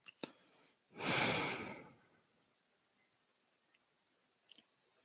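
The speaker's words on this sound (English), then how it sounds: "So just taking a breath in" One slow, deep in-breath taken during a guided breathing exercise, close and soft, lasting about a second, followed by quiet with faint clicks.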